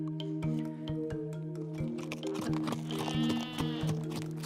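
Sheep bleat several times in close succession, loud and near, layered over a steady tonal backdrop in an animated telling of the parable of the lost sheep.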